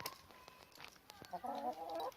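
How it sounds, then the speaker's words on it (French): A small farmyard flock of six hens and a rooster, heard as scattered soft clucks followed by a longer, louder run of tonal clucking calls near the end, moderately close. "Voilà, 6 poules, dont un coq."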